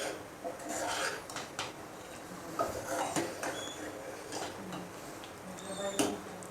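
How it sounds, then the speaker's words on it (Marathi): A spoon stirring milk in a pot while basundi cooks: continuous scraping and rubbing against the metal with occasional clinks, close and moderately quiet, with soft hiss throughout. "चमच्याचा हलवत राहा, नाहीतर खाली लागू करपू शकतं"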